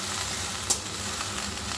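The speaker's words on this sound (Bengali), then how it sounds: "ওইদিকে ততক্ষণ ভেন্ডিটা ভাজা হচ্ছে হোক" Okra pieces fry in hot oil in a pan, giving a steady, close sizzle with one brief sharp click partway through and no talking.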